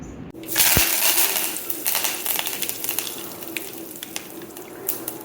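A stone mortar pounds raw green mango into a coarse chutney, heard as a close, loud crushing thump and then wet, irregular grinding and squelching scrapes. No one speaks.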